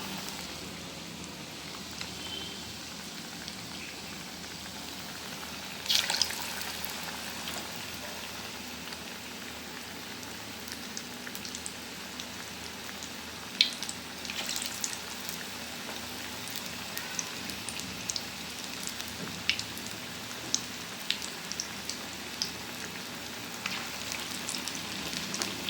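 Potato bondas frying in a small amount of hot oil, a soft, steady sizzle and crackle with occasional louder pops and spatters as batter-coated pieces go in.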